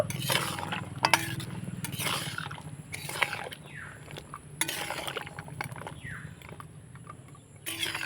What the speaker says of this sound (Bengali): এবার আমি মিষ্টিগুলো সেরার মধ্যে দিয়ে দিব আর দিয়ে একটুখানি নাড়াচাড়া করে নেব